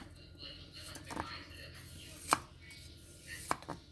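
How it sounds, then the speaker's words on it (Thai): A knife slices peeled Chinese kale stems diagonally on a cutting board, with a few soft cuts and two sharp, distinct chops while someone talks quietly. "หั่นเฉียงๆเขาแบบนี้นะคะ"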